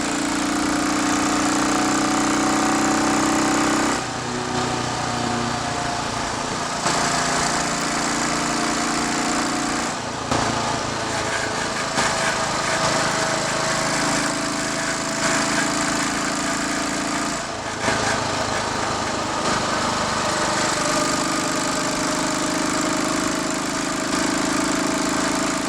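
A Royal Enfield Bullet Watsonian 500T motorcycle's 500cc single-cylinder engine runs on a test ride, its exhaust a loud, steady thumping drone that rises and falls in pitch as revs change, with no talk over it.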